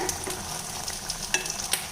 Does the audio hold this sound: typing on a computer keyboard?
no